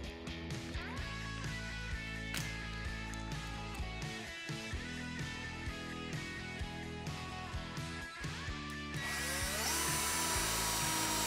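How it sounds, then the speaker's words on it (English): A power drill drives self-tapping screws into the metal middle pole of an in-ground basketball system, whirring in repeated bursts of rising pitch, close and fairly loud, ending in a sustained high whine. "Attach the scoreboard to the side of the middle pole by adding a self-tapping screw to the top and the bottom holes."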